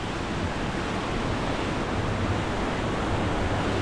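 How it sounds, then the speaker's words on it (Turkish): Rushing water of a small waterfall on a rugged trail, a dense steady roar of broadband noise, loud and close with no letup and no voices. "Küçük şelale gibi bir yer."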